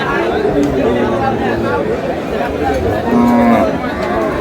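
A Sahiwal cow with calf moos at a busy cattle market in Aftabganj, the low drawn-out calls rising twice over constant crowd chatter and bargaining voices.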